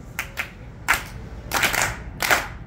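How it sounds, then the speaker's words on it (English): A handful of scattered, uneven handclaps at a live music performance, sparse and fairly quiet against a hushed room and never building into steady rhythmic clapping. "let's clap along with these guys here"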